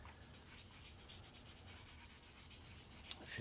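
Fine 1500-grit sandpaper rubs back and forth over a zinc-plated metal part from a 1967 Ford Thunderbird, a faint steady rhythmic scratching at close range with no talk.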